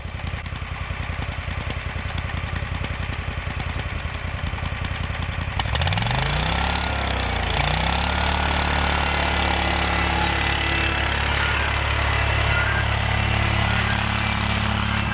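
A zero-turn mower engine revs up hard while towing a roller, its loud rumbling idle swelling into a steady high-rpm roar that holds close and continuous.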